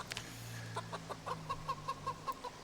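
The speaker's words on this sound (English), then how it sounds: "There's a lot of fucking chickens here." Chickens cluck in a farming video game, a string of short rhythmic clucks and tonal calls repeating at a steady pace, fairly close and clear with no talk over them.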